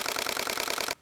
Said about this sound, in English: this is what 10 shots per second sounds like on the D500